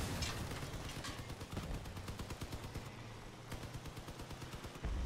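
Rapid automatic gunfire from vehicle-mounted weapons in the game Crossout, a dense run of bursts that pauses briefly and then resumes, loud and close.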